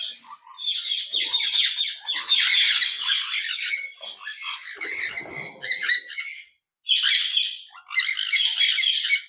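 A captured pet bird, escaped from its cage, squawks loudly and repeatedly in harsh, rapid bursts with short pauses, close up and alone.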